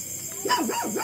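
A puppy's high, wavering yips and whines, brief and fairly close, rising and falling over a faint background hiss.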